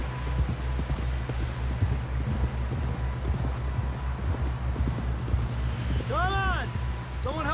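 Rapid rhythmic hoofbeats of a galloping horse in Red Dead Redemption 2, steady and fairly close, ending with a whinny near the finish; voices are heard in the background.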